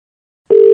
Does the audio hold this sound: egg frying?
no